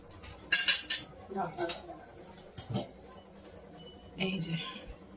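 A pot of tarka is stirred and then covered with its lid, giving several sharp metallic clinks and scrapes of utensil against cookware in short bursts, with a voice talking over the clatter.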